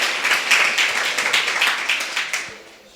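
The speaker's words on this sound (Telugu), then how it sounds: "చప్పట్లు కొట్టండి." A church congregation clapping hands during a Sunday worship service, a dense burst of rapid overlapping claps that holds for over two seconds and then fades away, fairly loud and close.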